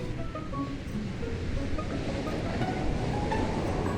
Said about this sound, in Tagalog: Itong beach, tingnan mo. Napakalinaw ng tubig at napakapino ng buhangin.